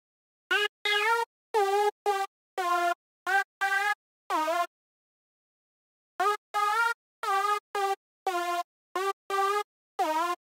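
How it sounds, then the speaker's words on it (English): Serum synthesizer saw-wave lead passed through a band reject filter, playing a choppy rhythmic phrase of short bright buzzy notes with a gap in the middle, loud and alone without any talk. "let's add a saw wave, and now we're going to add a band reject filter"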